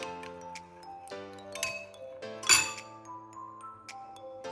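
A spoon stirring yogurt starter into milk in a glass container, producing a series of light ringing clinks and taps at irregular intervals, close and fairly quiet, with one sharper clink near the middle.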